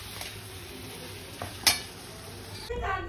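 Khichdi cooks in a pot on a home kitchen stove, with a soft steady simmer and bubbling, a few light clinks of utensils and a sharper scrape near the middle.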